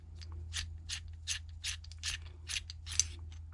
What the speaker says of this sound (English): you unscrew this piece here